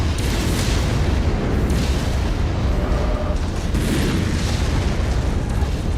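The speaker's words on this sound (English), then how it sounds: "Incoming missile." Missiles exploding in a mech combat video game, a dense continuous roar of booms and blasts that stays loud throughout with no break.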